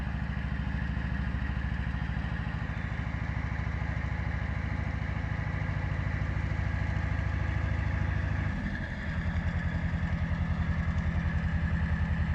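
A motorcycle engine idles close by in a steady low throb with a continuous clattering rumble and a brief dip near the end, with no talk over it.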